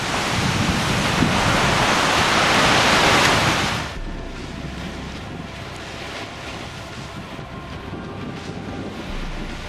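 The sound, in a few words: ocean waves and wind on a beach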